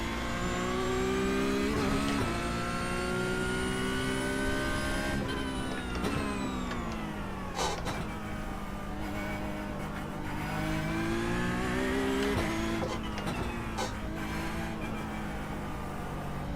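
A Porsche's engine revs hard and climbs through the gears on a racetrack, dropping pitch at each shift, loud and close throughout like onboard racing.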